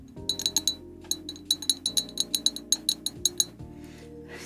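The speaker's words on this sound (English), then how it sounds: "Glass tappies." Fingernails tap on glass on a cluttered desk in close, bright clinks. The taps come in quick irregular bursts with short pauses and there is no talking.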